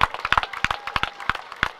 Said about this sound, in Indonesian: saya minta tepuk tangannya